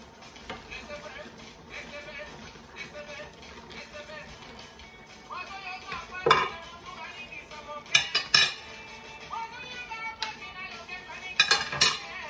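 Beef being added to a pot of African spinach and mushrooms, with utensils clinking and scraping against the pot in a few sharp bursts while a person talks.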